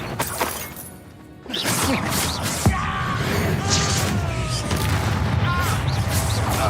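Confringo explosive spell going off in the fantasy game Hogwarts Legacy: a sharp loud blast with a crashing impact, followed by sustained rumbling game ambience and scattered clatters.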